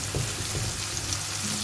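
Chicken fries in a non-stick frying pan with a loud, continuous close sizzle and crackle, heard alone.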